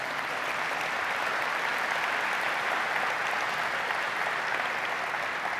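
A conference audience at an annual meeting awards program applauds an award winner, a dense, even roar of many hands clapping that holds steady at full strength for several seconds.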